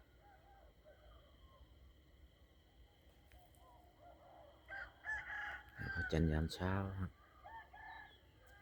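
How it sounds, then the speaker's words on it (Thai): A rooster crows loudly and close by, a long harmonic call near the end, with someone speaking briefly before it and faint birds in the morning background. "เสียงไก่ขันด้วยยามรับยามเช้าครับ"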